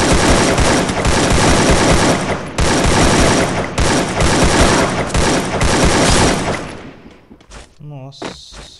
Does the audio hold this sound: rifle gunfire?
yes